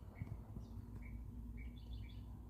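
Small birds chirp at dawn in November, giving short high tweets and brief trills scattered irregularly over a low, steady background rumble, faint and fairly distant, with no voices.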